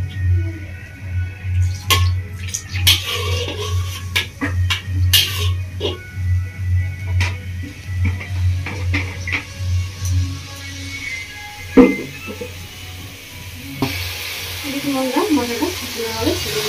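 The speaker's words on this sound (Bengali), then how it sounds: "এবার দিয়ে দিচ্ছি এর মধ্যে জল। জল দিয়ে মশলাটাকে খুব ভালো করে ফুটিয়ে নেবো।" Fried spice paste in a pan takes added water and comes to a boil for a Bengali echor chingri dish, giving a steady low bubbling sizzle, with scattered clinks of utensils against the pan and a sharp knock near the end.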